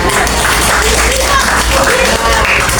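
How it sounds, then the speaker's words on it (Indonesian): Loud, continuous clapping from a group at a teacher training session on computational thinking, dense and steady with voices mixed in underneath. "Tepuk tangan."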